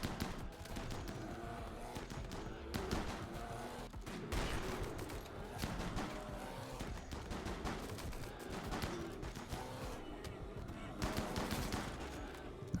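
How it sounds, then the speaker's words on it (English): Anti-materiel rifle fire mixed into a dense RimWorld firefight, continuous overlapping shots and impacts from several weapons, distant-sounding, with a voice talking over it. "Anti-material rifle."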